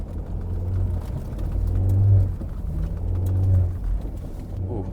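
A car drives over snowy roads on Nexen Winguard Winspike 3 winter tires, a steady low engine and road rumble from inside the cabin that swells twice as it accelerates, with no talking.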